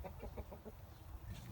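Chickens and a rooster cluck in a shaded chicken yard, a run of short rhythmic clucks close by over a low background.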